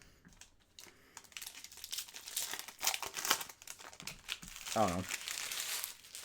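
Hockey trading card packs from an Upper Deck Flair hobby box being ripped open, close crinkling and tearing of foil wrappers in irregular bursts, with a brief spoken remark partway through.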